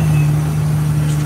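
Cab of a truck with a Cummins L10 engine and an Eaton Road Ranger 9-speed transmission, a loud, constant low drone with a strong steady hum while driving.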